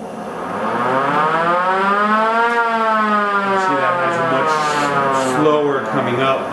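A large siren in a home workshop winds up with a loud rising wail, peaks, then slowly falls away, sounding steadily throughout with no talk over it.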